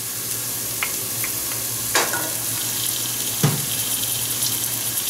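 Garlic frying with browned onion in a pan for chana masala gives a steady close sizzle, with a few sharp stirring clinks and scrapes and no talk.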